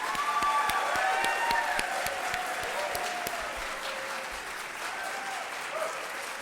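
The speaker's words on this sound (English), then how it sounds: "And that's the last applause we'll hear for an hour." Audience applause at a televised U.S. House congressional debate for New Jersey's 2nd District, a steady wash of many hands clapping throughout, fairly close and loud, slowly thinning toward the end with no talking over it.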